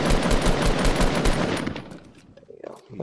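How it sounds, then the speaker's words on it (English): Rapid automatic gunfire in a video game, aimed at a tree: a dense, continuous burst of loud shots that thins out and fades to scattered sounds in the last second. "Why are we shooting at a tree?"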